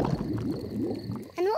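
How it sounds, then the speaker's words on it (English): A cartoon stomach rumbles in a low, bubbly, gurgling churn that lasts over a second, then ends in a short rising squeaky tone. "My tummy rumbling is one of the best sounds of nature."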